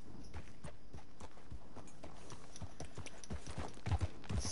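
A horse walks in Red Dead Redemption 2, its hooves clip-clopping in a steady rhythm over constant game ambience. A few heavier thumps come near the end.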